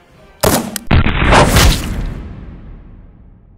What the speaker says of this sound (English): Now we're gonna be shooting this from 7 yards and then we'll shoot it from 25